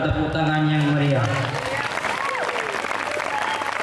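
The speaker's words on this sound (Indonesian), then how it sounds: "berikan tepuk tangan yang meriah" Audience applause at an Islamic boarding school ceremony, beginning under a voice and then settling into a steady, lively wash of clapping from many people.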